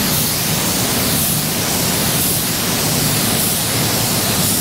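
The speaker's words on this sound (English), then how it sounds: "So I'm going to throw another couple coats of primer on there." An Eastwood Elite primer gun sprays coats of primer onto a car with a loud, continuous broadband hiss. The hiss stays constant and close, with a slight pulsing sweep as the gun passes.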